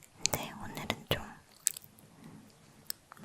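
Chocolate chewed close to the microphone for ASMR, with a few crisp bites and moist chews at irregular intervals and soft whispering between them.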